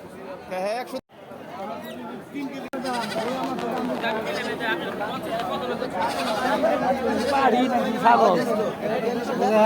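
A goat bleats repeatedly amid constant crowd chatter and talking nearby, the calls rising above the voices in short wavering bursts throughout.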